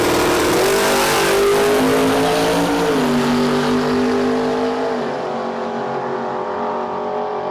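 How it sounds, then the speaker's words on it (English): A hot rod drag racing car revs its engine at a drag strip, a loud, close growl with rising and falling pitch steps before tapering off, without talk. "look at this hot rod in the Ohio Cat lane"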